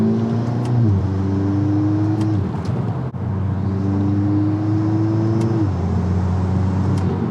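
A 2022 Volkswagen Golf R MK8 fitted with an MST Performance open intake drives on city streets, its engine note climbing steadily through two strong pulls with a brief lift between them, loud and close throughout.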